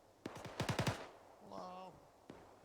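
Gunfire in the Arma 3 video game: a single shot followed by a fast burst of about five loud rounds, then a lone distant crack after a quiet gap with a short tonal electronic beep between.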